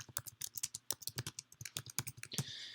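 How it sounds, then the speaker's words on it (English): Rapid, uneven typing on a computer keyboard, with close, crisp key clicks in quick bursts and a slightly louder clatter near the end. No one speaks. "So let's go ahead and type that in."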